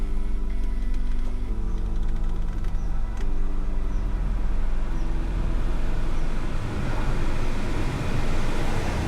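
Blower motor in a 2010 Nissan Sentra pushing air through the vents with the engine idling, a steady broadband rushing whoosh holding level throughout, with a low idle hum underneath and no talk.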